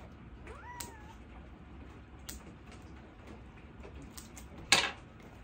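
A cat that hates nail trims meows during a claw clipping at home: a few faint, rising meows and one louder yowl near the end, with small clicks and handling noises close by and no talking.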